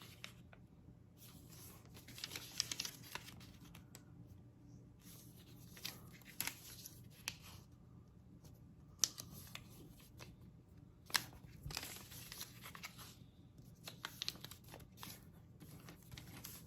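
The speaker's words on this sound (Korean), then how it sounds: "각 4군데 모서리를 안쪽으로 다 접어줍니다." Colored origami paper is folded by hand. Faint, soft crinkles and creasing taps come in scattered bursts over a quiet background, with no talking.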